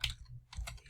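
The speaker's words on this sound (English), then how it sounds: "sometimes I get ahead of myself with the typing here" Quick bursts of typing on a computer keyboard, a few close, crisp key clicks in short clusters with a brief gap between them, heard alone at moderate level.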